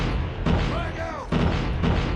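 A frag grenade goes off in Call of Duty Mobile, a loud booming blast with rumbling low end, surrounded by other battle noise and game voice callouts.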